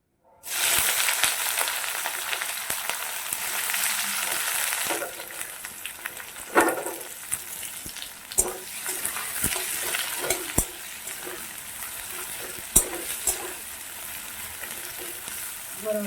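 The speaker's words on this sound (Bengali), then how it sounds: "পেঁয়াজটা আমি এবার একটু লাল লাল করে ভেজে নেবো" Onion frying in a pan for a Bengali potol and prawn curry, a steady loud hiss and sizzle with occasional sharp spatters and stirring scrapes, continuous throughout with no talk.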